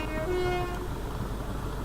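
A Class 325 train sounds its horn in a short two-tone blast over the steady rumble of the moving train, then the horn stops and the running noise carries on.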